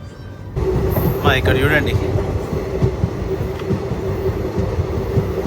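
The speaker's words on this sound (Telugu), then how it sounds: "కైకలూరు దగ్గర నుంచి కూడా బయలుదేరిపోయింది మన ట్రైన్" The Nagarsol Superfast Express rolls along with a steady, close rumble of wheels and carriage noise heard from on board, while someone talks briefly over it.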